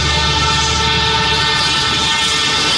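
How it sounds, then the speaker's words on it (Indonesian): A toy train sounds off loudly and continuously, a bright, tonal horn-like whistle with steady mechanical buzzing, close by and alone with no voices. "Keretanya bisa bunyi, teman-teman."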